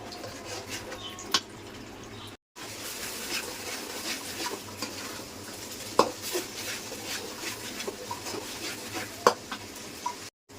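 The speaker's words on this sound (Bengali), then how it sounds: "এখন ভালোভাবে মশলাটা একদম ভাজা ভাজা করে কষানো।" Spice paste for a fish curry, loosened with a little water, frying and being stirred in a pan, giving a continuous soft sizzle with occasional spoon scrapes and taps against the metal.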